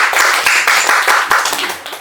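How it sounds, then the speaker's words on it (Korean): Audience applause from a lecture hall crowd, a dense burst of hand clapping sustained loudly for about two seconds with no voices over it. "잘 잡았으면 박수 한번 주세요."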